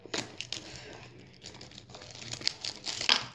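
Close crinkling and crackling of plastic packaging on Roblox action figures being pulled and torn open, continuous rustling that grows louder toward the end.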